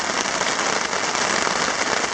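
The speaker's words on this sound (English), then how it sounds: "it is now raining here" Steady rain falling on a Boundary Waters canoe trip, a dense, even hiss of drops pattering close by on surfaces for the whole stretch, with no voices.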